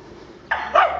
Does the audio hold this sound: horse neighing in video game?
no